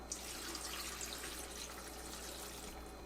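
Fresh coconut water pours from a just-broken coconut into a Kuvings power blender, a soft continuous trickling and splashing heard up close with no talk.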